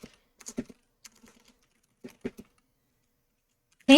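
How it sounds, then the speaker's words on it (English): Sparse keystrokes on a computer keyboard tap out in small clusters against near silence, close and crisp, before a sudden loud burst of sound cuts in at the very end. "Can you hear my keyboard, by the way?"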